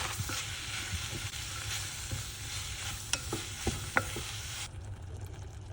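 A plant-based tomato mixture with cumin, coriander, turmeric, paprika, a bay leaf and a cinnamon stick sautés in a pot, giving a steady close sizzle broken by spoon scrapes and clinks before quieting near the end.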